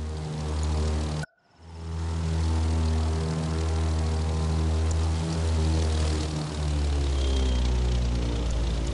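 A fixed-wing propeller plane's engine drones steadily in The Crew, loud and continuous, dipping away in a brief near-silent gap early on before resuming its sustained roar with slight pitch shifts.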